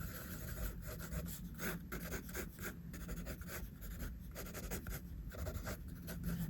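A pencil draws lines on paper in close, steady scratchy strokes that repeat with a soft rubbing rhythm, with no talking.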